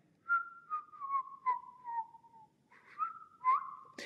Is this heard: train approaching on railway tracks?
no